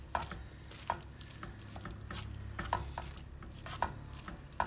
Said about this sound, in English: And give them a mix.